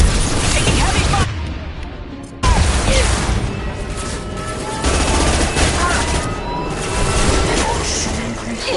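Heavy gunfire in a PS4 shooter game, dense overlapping volleys of shots with crashes and bangs, loud and sustained with brief lulls, while game character voices call out over the fighting.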